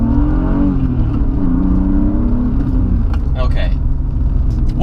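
A car on new, fairly aggressive tires drives along at moderate volume. Its low engine drone rises steadily as it accelerates, with light rattles and clicks near the end.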